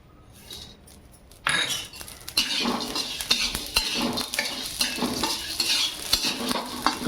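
Masala spices dry-roasting in a hot kadhai for homemade Agari Koli masala, with a steady stirring scrape and light sizzle, spoon knocks and clinks against the pan close up, no talking.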